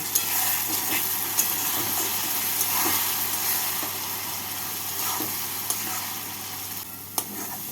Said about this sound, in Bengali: এবার মশলাটাকে পেঁয়াজ আর টমেটোর সাথে কষিয়ে নেব